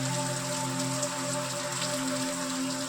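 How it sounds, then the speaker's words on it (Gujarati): Steady rain pours down in a village, a close, continuous hiss of drops striking surfaces, with a faint constant hum underneath and no talk. "અત્યારમાં વરસાદ ચાલુ થઈ ગયો છે."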